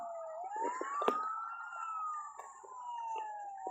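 A fire truck siren wails nearby, a steady rising and falling tone sweeping continuously, with scattered clicks and knocks around it and no speech.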